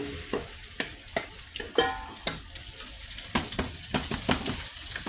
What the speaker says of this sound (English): We're going to go ahead and add our potatoes in, straight, just as they are.